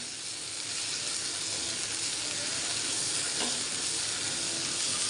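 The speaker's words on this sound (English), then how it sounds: "Now we will add the moringa leaves in this and saute this till the leaves are wilt." Moringa leaves sauté with cooked tomato in a pan, giving a steady, close sizzle and hiss with faint stirring scrapes throughout.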